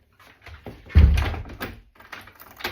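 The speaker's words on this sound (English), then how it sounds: "let me shut the door" An interior door pushed shut at home, a dull thud near one second followed by brief rattling and shuffling, close and moderately loud in a quiet room.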